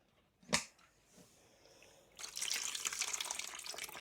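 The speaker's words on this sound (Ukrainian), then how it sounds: "І так кожну баночку зливаємо." A clink, then water pours steadily from a jar of tomatoes into a sink, a continuous splashing stream close by.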